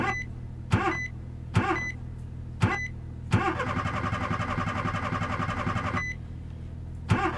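A car engine cranks repeatedly in short bursts, then turns over for a few seconds before cutting out, followed by more single cranking attempts.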